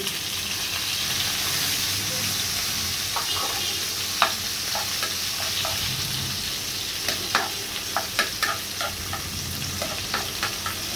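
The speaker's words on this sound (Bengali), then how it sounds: "এখন এই তেলের ভিতরে মশলা দিয়ে দিব। দিচ্ছি পেঁয়াজ কুচি" Chopped onion and spices sizzling in hot oil left over from frying fish, a steady close crackle broken by repeated clinking spoon stirs, louder toward the end.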